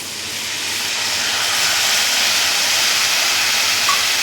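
Tamarind water pours into a simmering curry leaf gravy, setting off a broad steady hiss and sizzle that swells over the first seconds and then holds loud and close.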